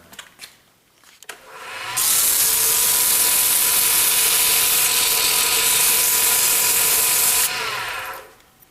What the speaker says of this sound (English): I'm just going to use 80 grit sandpaper and just rough it down with sandpaper